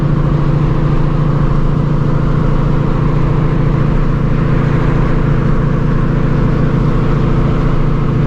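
A Shelby GT350 with a clutch still being broken in drives through morning traffic, its engine holding a steady, loud drone with continuous road and exhaust rumble throughout and no talking.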